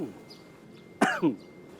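An elderly grandfather coughs after choking, two quick harsh coughs close together, sharp and near after a stretch of quiet room tone.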